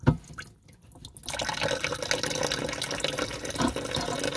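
Water trickles and hisses steadily into a toilet cistern through a faulty ball cock valve that has stuck, a continuous close, moderately loud flow starting after a brief quieter moment.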